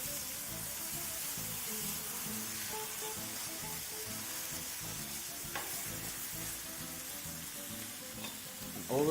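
Turkey sears in hot oil in a pan, giving a close, continuous crackling sizzle with no talk.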